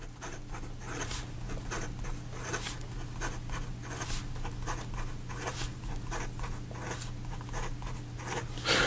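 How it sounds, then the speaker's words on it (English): Lamy Safari fountain pen in petrol color writing fast on paper, a close, continuous run of quick scratchy strokes over a low steady hum, with no speech. "And then in regard to some fast writing"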